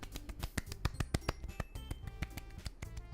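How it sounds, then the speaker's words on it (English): Applause sound effect in the video game Doki Doki Literature Club: a quick, dense patter of sharp claps over soft background music, fairly faint and with no voices. "The four of us applaud!"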